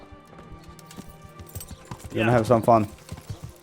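Horse hooves clip-clop in the video game Kingdom Come: Deliverance. Light, quick clicks sit under a low game soundscape, then a voice speaks briefly over them.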